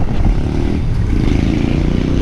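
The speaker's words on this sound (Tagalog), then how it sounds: "dadaanan natin yung isang motor" A motorcycle runs along a road on Jomalig Island, its engine a steady, fairly loud rumble that holds level throughout with no clear approach or fade.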